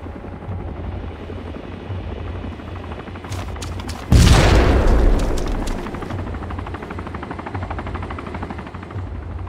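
Helicopters in the DayZ Epoch survival game drone with a continuous low rotor thrum, broken midway by a sudden loud boom and crackling burst that slowly decays back into the steady engine hum.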